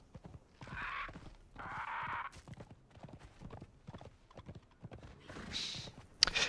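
Horse hooves clip-clop in a steady rhythmic gait while riding in Conan Exiles, close and fairly soft, with brief whooshing swells and a faint voice in places.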